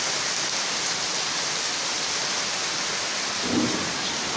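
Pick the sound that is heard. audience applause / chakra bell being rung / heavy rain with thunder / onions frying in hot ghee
heavy rain with thunder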